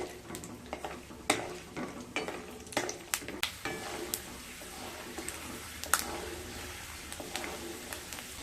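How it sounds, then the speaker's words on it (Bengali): Peanuts fry in hot white oil over low to medium heat, a soft continuous sizzle broken by irregular close clicks and scrapes of a spatula stirring in the pan. "তেল গরম হয়ে গেলে চিনেবাদামগুলোকে ভেজে নেব"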